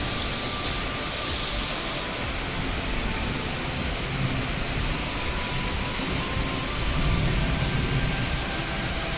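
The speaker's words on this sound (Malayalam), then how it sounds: "നല്ല അടിപൊളി മഴയാണ് കേട്ടോ." Heavy afternoon rain falls outside a home in Kerala, making a steady, dense hiss that stays fairly loud and unbroken throughout, with no voices.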